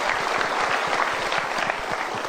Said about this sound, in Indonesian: kita berikan tepuk tangan dulu mereka.